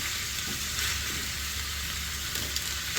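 Macaroni ingredients sautéing and frying in a pan, a steady close sizzle with a few soft stirring scrapes and no voices.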